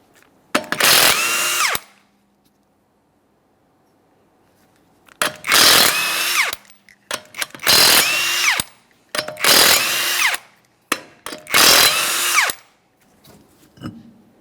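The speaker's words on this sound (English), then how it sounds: "we're going to remove all 5 of our 21mm lug nuts and then the wheel" A power tool zips 21mm lug nuts off a 2014-2019 Toyota Corolla wheel in five loud, close bursts, each a couple of seconds long with a rising whine, separated by short silences.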